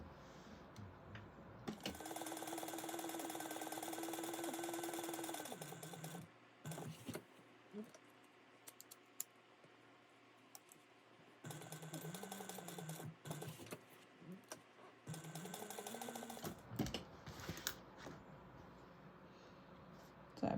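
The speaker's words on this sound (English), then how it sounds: "We're going to sew at 1/8 of an inch around the exterior of this all the way around." A sewing machine topstitches an eighth of an inch around the edge of a fabric bag in bursts of steady mechanical whirring, stopping and restarting, close and alone between pauses.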